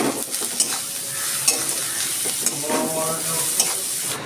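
Chopped onion and turmeric sizzling in hot oil in a pan, a steady crackling hiss broken by regular scraping strokes of a spatula stirring, close and clear, with no voices.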